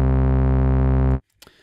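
A buzzy sawtooth synth tone played an octave lower in a sound design demo, holding one steady, loud, harmonically rich note for over a second before cutting off abruptly into near silence and a faint click.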